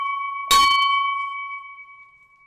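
A single bell is struck once, giving a sharp metallic hit followed by a clear, pure ring that hangs and slowly fades over the next two seconds, with a faint tone already sounding just before the strike.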